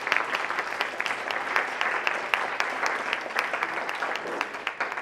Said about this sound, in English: Please give a clap for our sponsors.